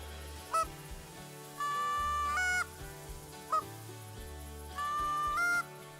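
Geese honk on a goose hunt as they take flight, loud nasal calls in repeated pairs of a short sharp honk followed by a longer drawn-out one, close and clear with no talking.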